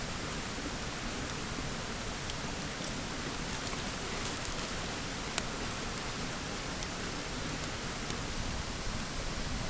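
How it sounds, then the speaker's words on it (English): Small streams and little waterfalls around a spring backpacking campsite make a steady, dense rush of water that continues evenly throughout, with no voices. "You can probably hear the water in the background."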